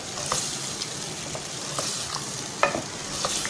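Soft boiled chickpeas are stirred and fried in a pan, a constant close sizzle punctuated by repeated light scrapes and clicks of the spoon, one knock louder than the rest.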